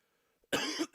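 A man gives a short, sharp cough, close and loud after a near-silent moment, followed by a second smaller burst.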